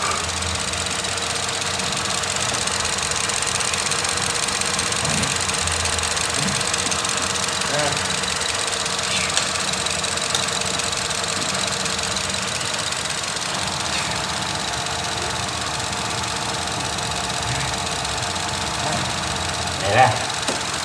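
Opel Insignia engine idling with a steady, loud, even hum and faint ticking running throughout, close to the engine bay, with a small bump near the end.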